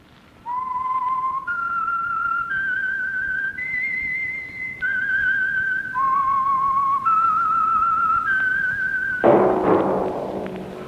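A loud, clear whistled melody of sustained notes stepping up and down, ending with a thump and rustle.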